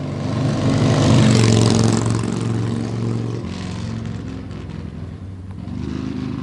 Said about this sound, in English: Hear that when you're shifting down or decelerating. The exhaust backlash is just intoxicating.